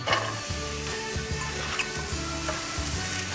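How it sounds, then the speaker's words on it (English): Chopped onions sizzle and fry in hot oil with whole cloves and cinnamon sticks for a cauliflower and green peas curry, a steady close crackling hiss with a stirring rhythm and no talking. "Now let's add the cut onions."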